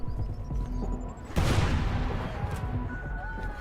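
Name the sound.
grenade explosion in the video game Crackdown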